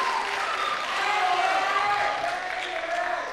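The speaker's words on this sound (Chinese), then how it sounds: "我们来掌声请理事长为我们说说话" An audience applauds at a 2024 mother-tongue song-and-dance drama competition for junior high students, a dense, steady wash of clapping that fills the hall throughout, with a faint tonal hum beneath.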